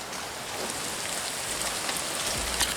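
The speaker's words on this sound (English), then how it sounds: "it started pouring down rain. I don't know if you guys can tell, but it's coming down" Heavy rain pours down outside an open shop door, a dense steady hiss of drops hitting surfaces, continuous and fairly close, with no one talking.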